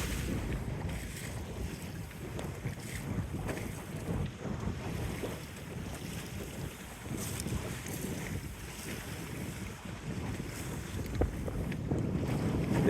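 A West Wight Potter sailboat running in brisk early-season wind, with steady wind rumble on the microphone and continuous water splashing and wash against the hull, fairly loud and even throughout, with no talking.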